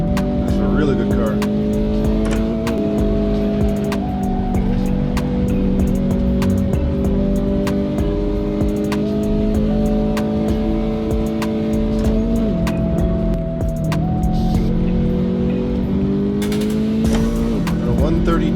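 Race car engine in the Assetto Corsa video game, a steady loud drone with stepped pitch shifts as it changes gear, holding throughout with a brief dip near the end.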